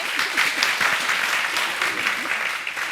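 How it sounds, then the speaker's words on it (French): An audience applauds performers at a live French show, a dense, loud, sustained burst of many hands clapping together with crowd noise mixed in. "On peut les applaudir, s'il vous plaît"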